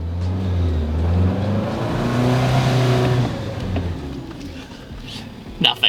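A 2025 non-TRD Pro Toyota 4Runner in 4 low climbs an off-road hill, its engine giving a steady, close, low droning hum that eases slightly as it goes, with a couple of brief knocks at the end.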